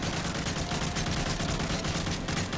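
Gunfire in the video game Call of Duty: Modern Warfare 3: dense, continuous automatic fire with rapid overlapping shots, loud and steady for the whole stretch, with no talking.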